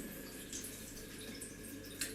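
Hot water running steadily through a thermostatic shower bar mixer tap, a soft continuous hiss of flow with faint splashing and drips, fairly quiet and alone.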